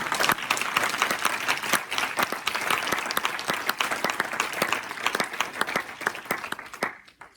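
A church congregation applauds loudly and continuously, dense steady clapping that fades out at the very end.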